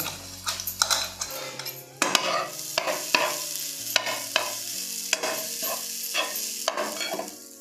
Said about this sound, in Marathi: पॅनमध्ये मी 1 चमचा तूप टाकते. खोबरं टाकते.